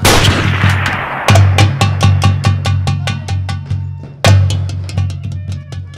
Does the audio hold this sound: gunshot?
yes